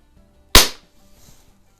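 A single sharp crack comes from a Xisico XSP120D single-stroke pneumatic air pistol as it fires one pellet, with a short decaying tail and quiet around it.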